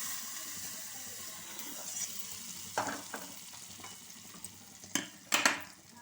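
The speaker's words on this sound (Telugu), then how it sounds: "ఇప్పుడైతే వచ్చేసి కూర పోపు వేసేసుకుంటున్నా అండి" Soft, steady sizzling of tempering spices (split black gram, split chickpeas, mustard seeds, dried red chili and asafoetida) frying in hot oil in a wok, broken by a few clinks and scrapes of stirring.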